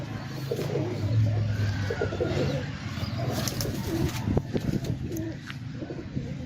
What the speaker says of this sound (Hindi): तो मैं आपको कबूतर दिखाता हूँ।